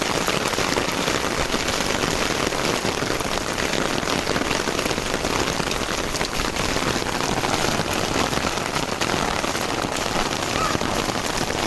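Steady, dense rain falls on a rooftop garden, a constant hissing patter of drops with no pauses across the whole stretch.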